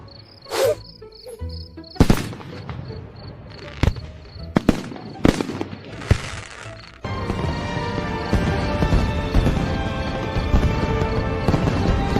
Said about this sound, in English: My special fireworks celebration for America's 250th birthday